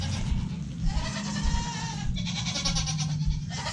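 Nigerian Dwarf goats on a farm bleating repeatedly at treat time, steady overlapping calls close by with general barnyard noise, no talk.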